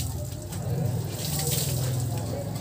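Water pours and splashes steadily while a Honda Click 125 scooter is washed, a continuous close rushing gush without pause.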